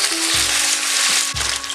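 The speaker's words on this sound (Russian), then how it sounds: "Пока курица жарится" Chicken pieces for Kung Pao chicken fry in hot oil, a loud, close, continuous sizzle with brief crackling surges, no voices.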